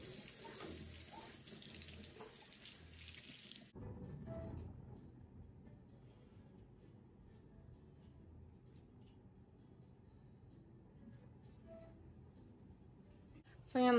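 Cold tap water runs steadily over a crab being washed in a kitchen sink, a broad continuous splash for a few seconds that then drops to a quieter trickle and faint background sounds.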